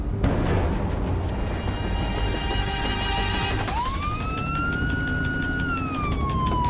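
A police car siren starts up during a traffic stop on a busy street, rising into a loud, sustained wail over a running engine.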